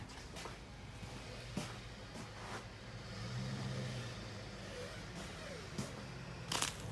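A pickup truck driving on a slippery hill beside a garage, a faint, muffled engine rumble that swells briefly as it revs, with scattered knocks and bumps.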